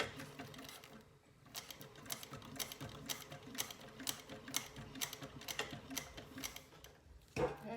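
A sewing machine stitches along the edge of a zippered rivet pouch, a steady run of quick mechanical ticks and clatter with brief pauses near the start and end, close and moderately loud.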